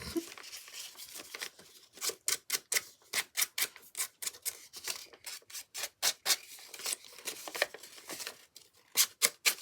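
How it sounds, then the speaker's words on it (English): Scissors snipping through doubled-up paper pages in a rapid, uneven run of crisp cuts and rustles, close and fairly quiet, with no talking. "So I just double up my pages and do that with the scissors."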